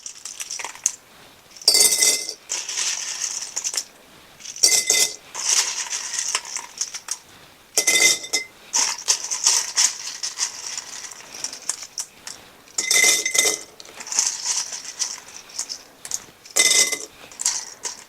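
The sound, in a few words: dry pasta put into a glass jar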